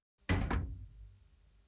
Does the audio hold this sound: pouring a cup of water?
no